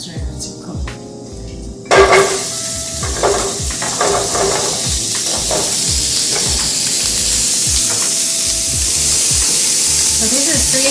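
Asparagus hits hot olive oil in a pan and bursts into loud, close sizzling that settles into a steady frying hiss with occasional stirring clatter.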